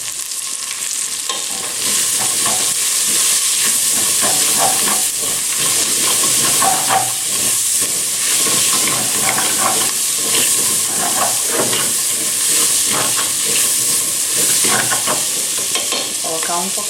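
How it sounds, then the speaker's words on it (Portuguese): Carrot and garlic sizzle and hiss steadily in a hot pan, with occasional stirring scrapes, loud and close throughout with no talking. "Nossa cenoura já murchou, hora de acrescentar nosso alho."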